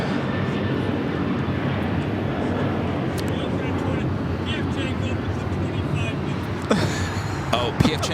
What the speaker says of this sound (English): That was Alaska Airlines 1364 taking off to Cancun, Mexico on the 737-900ER.